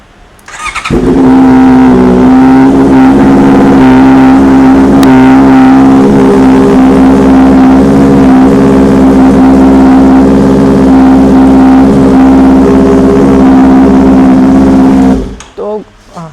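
A Honda CBR 650R superbike fitted with an Arrow slip-on exhaust holds a loud, deep, sustained engine drone for about fifteen seconds. The note stays steady and throaty, then cuts off abruptly near the end.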